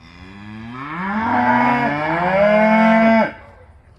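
A cow moos in one long, loud, drawn-out call of about three seconds that slides in pitch and then breaks off sharply, close by on a farm.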